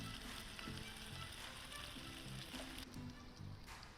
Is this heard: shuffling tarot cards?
no